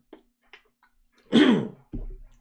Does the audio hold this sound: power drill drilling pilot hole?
no